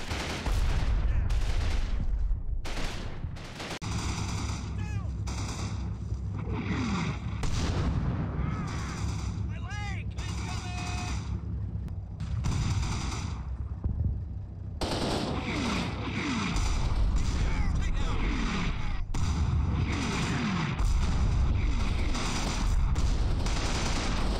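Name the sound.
mortar shells exploding in video game Combat Mission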